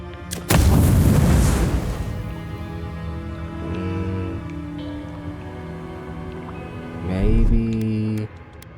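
A fire spell cast in the fantasy game Avowed erupts as a loud, roaring whoosh lasting over a second, then fades into tonal game background before a second, shorter fiery burst near the end.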